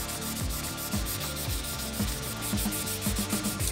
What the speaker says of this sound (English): the face of the bar will hand sand all the way up to a nice mirror polish